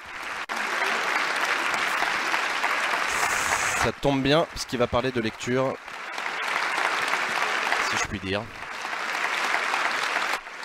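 French deputies applaud in the National Assembly in tribute to Jean d'Ormesson, a dense sustained ovation filling the chamber while a voice talks over it midway.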